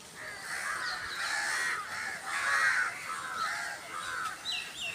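Crows cawing in a village, several birds calling in overlapping harsh caws, repeated and fairly near, with one call coming after another and no voices in between.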